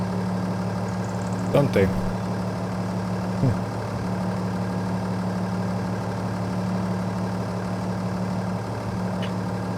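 A steady low tractor engine idle drones throughout, with a brief spoken remark and a couple of small clunks near the start.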